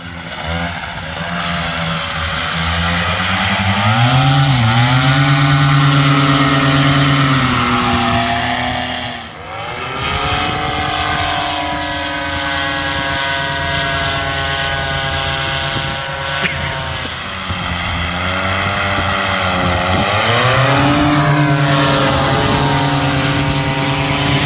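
A paramotor with a Polini 202 engine flies past with a loud, continuous propeller drone that shifts in pitch as it passes, fades briefly, then returns and sweeps by again, with no talking.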